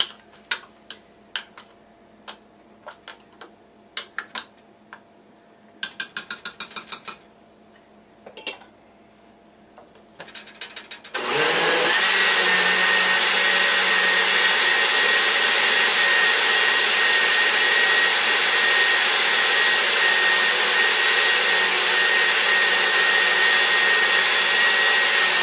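An electric mixer whips cream and added milk into butter, starting with scattered clinks and short bursts, then running as a loud, steady whir for the remainder, alone without talk.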